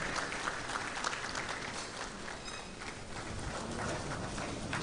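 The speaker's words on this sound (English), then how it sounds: "Another round of applause." Sustained audience applause at the KNUST Summer School, a dense, loud, close wash of many hands clapping that continues throughout without a break.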